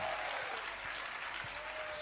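A crowd at a Hindi devotional gathering applauds steadily in a dense, continuous wash of clapping, moderately loud and without pause for two seconds.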